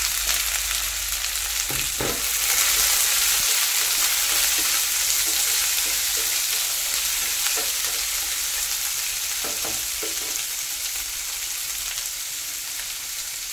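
Chopped onion sizzling steadily in a hot pan in a home kitchen, loud and continuous frying hiss with occasional scrapes and knocks of stirring, close up and without speech.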